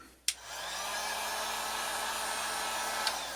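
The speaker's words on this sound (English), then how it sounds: "if you just take the heat gun just a little bit," Heat gun warming vinyl wrap on a car hood, starting with a sharp click and then blowing a steady, even, close whir that continues to the end with a faint click near the finish.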